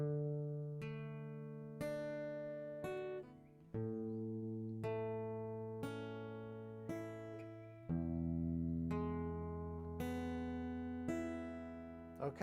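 Fingerstyle guitar arpeggio picked thumb, index, middle, ring, climbing through the strings in steady four-note groups per bar, each bass note ringing under the higher notes as the chords change, played alone and clearly.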